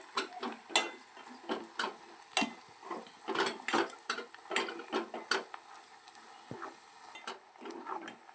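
Spice powder being fried and stirred in a pan, with a ladle or spoon scraping and clinking against the metal in an irregular, busy rhythm. It is close and moderately loud, and no one speaks.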